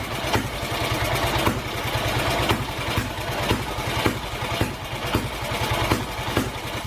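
A 1928 NSU 600cc single-cylinder motorcycle engine, found in a forest, runs at a steady idle close by, its loud, slow, regular thumping beat with metallic clatter continuing throughout.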